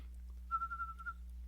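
A single clear whistled note, thin and slightly wavering, holds for about a second against a quiet low hum.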